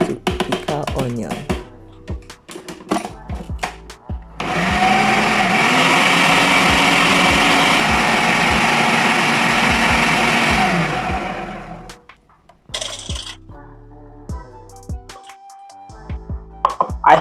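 An Amazon Basics food processor chops onions in one loud, steady whirring run of about eight seconds, its motor pitch wavering, framed by clattering and handling sounds before and after.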